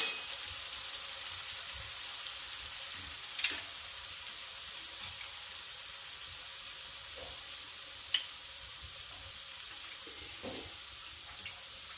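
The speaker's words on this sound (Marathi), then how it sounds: "आता आपण फ्राय करून घेऊ। असा हलवत राहायचं।" Chicken masala fries in a pan with a steady soft sizzle, broken by a few faint scrapes and taps as it is stirred, quiet and close, with no talking.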